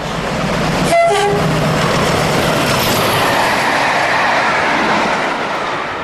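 British Rail Class 40 diesel locomotive 40152 runs south through Retford in 1976, a loud, close, steady engine roar and rail rumble, with a brief horn toot near the start and faint wheel squeal.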